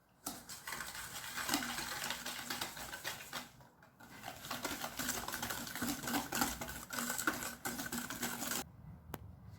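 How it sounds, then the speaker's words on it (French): An electric hand mixer beats cupcake batter of sugar, vanilla sugar and salt in a glass bowl, a steady, fairly close whirring with rattling beaters that pauses briefly partway and stops near the end. "moi j'ai utilisé un batteur parce que c'est plus simple."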